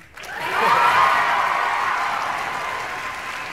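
Audience applause at a variety show, a dense wash of clapping that swells quickly and holds steady for several seconds before easing slightly, with a few faint cheers mixed in.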